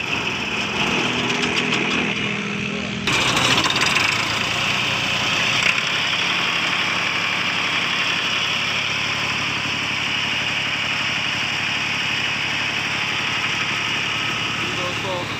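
A 1985 Massey Ferguson 240 tractor engine starts and settles into a steady, continuous idle close by, with a brief burst of other noise before the engine note takes over for the rest of the clip.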